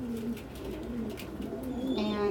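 Pigeons crowded around a food dish, cooing steadily in low repeated calls, close by, with a few brief chirps and wing sounds mixed in.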